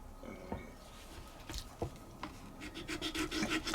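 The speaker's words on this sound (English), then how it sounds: "This is much more finer grain file, you see." A fine-grain file scrapes along a wooden guitar fretboard being scalloped, giving quiet, uneven rasping strokes that become faster and more rhythmic toward the end, close by with no talk.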